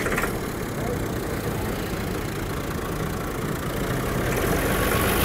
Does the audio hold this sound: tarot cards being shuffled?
no